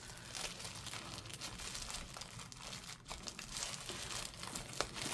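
Paper crinkling and tearing while a junk-journal package is unboxed, a close, continuous rustle with sharper rips and crunches throughout, fairly quiet and without talk.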